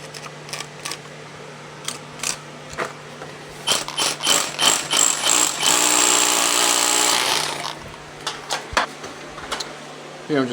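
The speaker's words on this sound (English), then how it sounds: "5/8 hole that we're going to drill through the concrete" A power drill bores a 5/8-inch hole through concrete during a home electrical service upgrade, with a loud grinding burst of about three seconds between scattered clicks and handling knocks.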